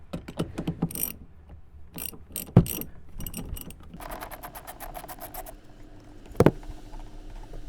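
Wheel nuts come off a Mini Cooper S with a wrench: a near sequence of ratcheting clicks, metallic clanks and a few sharp knocks, with a longer steady ratchet run in the middle.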